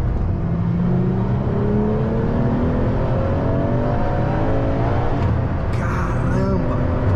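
A Ferrari LaFerrari on a racetrack accelerates hard, its engine a loud, continuous rising howl through the gears with steadily climbing pitch and a brief shift near the end.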